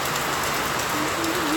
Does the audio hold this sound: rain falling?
yes